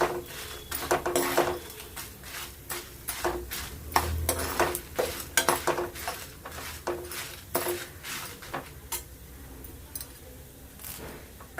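Masala for an Udupi wedding-style cucumber huli fries in a pot under a soft sizzle while a spoon stirs in quick, repeated scrapes and clinks against the metal, close and continuous, with no talking.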